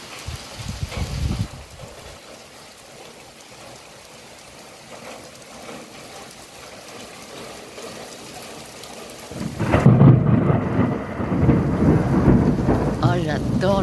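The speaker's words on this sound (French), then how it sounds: "comme tous les soirs, on a le droit à l'orage et à la pluie." A thunderstorm along the Camino Francés in Spain brings a loud rumble of thunder, then steady heavy rain pouring down, swelling into a louder downpour near the end, with no talking heard.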